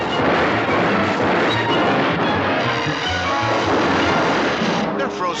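Cartoon gunfire from a Green Lantern superhero cartoon: a dense, continuous barrage of blasts and crashes fills the whole stretch at steady high loudness, with voices mixed in underneath.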